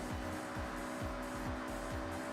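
Race cars in the Forza Horizon driving game roar steadily past at speed, engines whining with repeated rising sweeps roughly every half second and a hint of tire squeal, loud and continuous with no talking.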